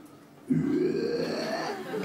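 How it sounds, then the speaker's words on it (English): A man burps right in someone's face at close range: one loud, drawn-out, voiced belch lasting about a second and a half, rising and holding before trailing off. "burped right in my face"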